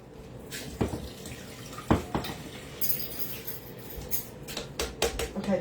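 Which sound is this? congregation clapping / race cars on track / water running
water running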